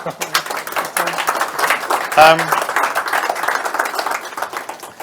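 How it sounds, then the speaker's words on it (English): Audience at a professional event gives a round of applause, scattered clapping with a brief louder burst partway through, mixed with talk and murmuring around the room. "Any round of applause again for Peter?"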